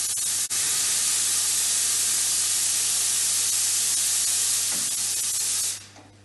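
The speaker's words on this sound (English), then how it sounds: "you can release the steam from the coffee machine just like this" Steam venting from a coffee machine during shutdown gives a loud, steady hiss that holds for about six seconds and then quickly fades away. A brief click comes near the start.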